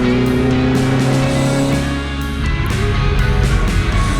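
Historic Ford Escort race car at full effort through a sequence of esses, a loud, close engine note that climbs and falls with sharp gear-change breaks and hard revving, with no talk over it.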